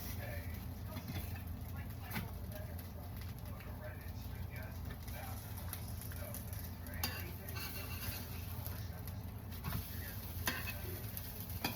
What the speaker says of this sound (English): I can hear it starting to sizzle, so I'm gonna flip the one that I started with.